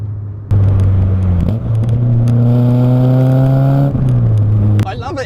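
A 23-year-old Peugeot 106 Rallye engine revving hard while driving, loud and close, with pitch climbing through the gears and dropping at a shift near the end.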